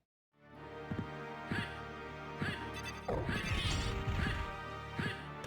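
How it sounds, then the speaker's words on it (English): Repeated heavy impacts in a video game as a character wing-smashes into the floor, a series of sharp thuds followed by a louder crashing burst and a rumbling, debris-like tail. "Dude fell through the floor by just wing smashing into it."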